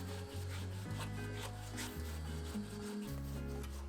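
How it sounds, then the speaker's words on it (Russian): A large potato is rubbed on a fine grater in quick rasping back-and-forth strokes, close and steady with a repeating rhythm and no talk. "Одну крупную картофелину тру на мелкой терке."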